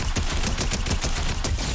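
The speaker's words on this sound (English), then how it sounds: "I'm hearing lots of shots popping off over here." Rapid bursts of gunfire crackle in the Fortnite video game, dense overlapping shots popping continuously at close range.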